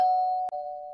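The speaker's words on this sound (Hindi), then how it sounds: "जो घंटी बजने लगी।" A doorbell chimes inside a home in a Hindi cartoon, one steady sustained tone briefly broken midway, loud and alone with no talking.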